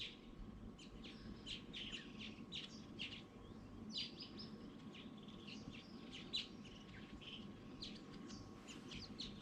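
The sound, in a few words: birds chirping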